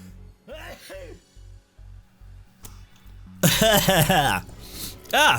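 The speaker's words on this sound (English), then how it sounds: "Gonna sneeze. Excuse me." After a quiet stretch, a loud, sudden sneeze bursts out close to the microphone, followed by a brief breathy sound.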